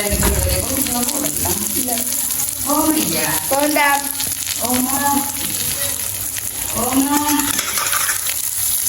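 Egg white frying with onion in a pan for a Jaffna-style curry, a bright steady sizzle with clinks and scrapes of stirring, while voices talk over it in bursts.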